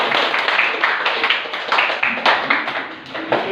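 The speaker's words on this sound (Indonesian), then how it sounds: "tepuk tangan dulu untuk kita" Classroom applause at a primary school: a small group claps with steady, slightly uneven beats, fairly close and moderately loud, with no voices over it.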